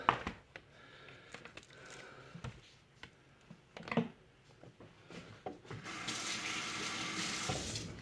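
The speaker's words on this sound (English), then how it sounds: "you're probably gonna see me wash my hands a million times, or rinse them at least" Hands are rinsed under a running tap during a meat-smoking session, with faint rubbing and clicks at first, then a steady close rush of water over the final seconds.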